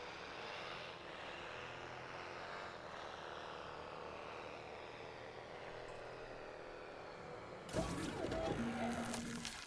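A helicopter in the park-building game Jurassic World Evolution arrives as a steady, broad rotor-and-engine drone runs throughout, swelling louder and rougher near the end as it closes in.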